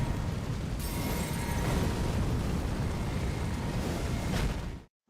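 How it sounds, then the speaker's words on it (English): Celebration fireworks in Elden Ring Nightreign form a dense, continuous roar of explosions and crackling bursts that stays loud for about five seconds, with no talk, before cutting off abruptly. "And the celebration fireworks, of course."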